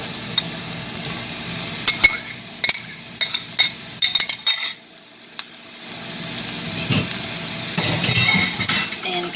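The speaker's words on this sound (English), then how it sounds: "so I'm going to add the meat back in" Browned meat scraped back into a pan of softened peppers and onions for chili con carne, a sizzle under a string of sharp utensil clinks and scrapes against the pan, then a steady frying hiss with stirring.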